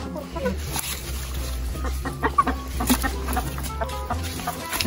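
Chickens cluck in a Kenyan village yard, scattered clucks and squawks at close range while people talk nearby.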